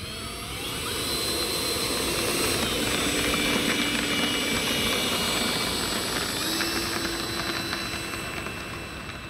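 Steady, loud jet roar with whining turbine tones from an L-39 Albatros jet aircraft in flight on a spring day in Montana, sustained and even throughout without any talk.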